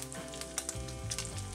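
Rice blood sausage (morcilla) fries in a pan with a dense, steady sizzle and crackle, close and continuous, with occasional sharper pops and light stirring.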